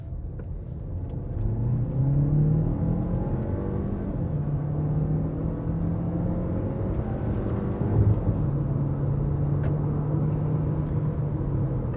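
A 2026 Nissan Tekton Tekna Plus SUV with a 1.3 turbo petrol engine and DCT gearbox accelerates at full throttle on a highway, its engine drone rising steadily and heard from inside the cabin alongside road rumble, with no speech.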